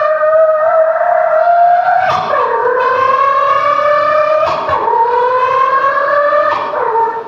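A voice imitates a new auto rickshaw running on a tar road, holding a smooth, sustained whine that rises and falls in long sweeps, loud and close with no other talk.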